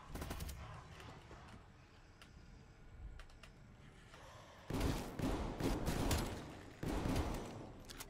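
Gunfire from a weapon in Call of Duty Cold War: a rattling automatic burst of shots, louder and denser in two bursts near the end, with quieter scattered shots and game noise between.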